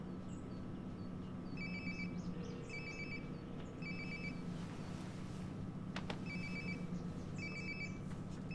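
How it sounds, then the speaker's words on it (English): A phone rings in repeated electronic trilling bursts inside the video game Life Is Strange: Before The Storm, each ring a short chirping pattern with pauses between, over a low steady hum and no talk. "Sounds like my phone is definitely nearby."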